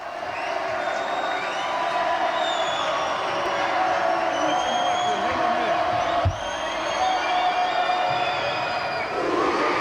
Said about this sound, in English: On the bench, Jim Schulteis imploring North's crowd to get up and make some noise, waving a towel.